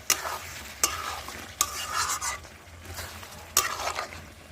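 Chicken kosha with potatoes sizzles in a pan over low flame as a spoon scrapes and stirs it, giving several sharp clanking strokes against the pan over a soft continuous frying hiss.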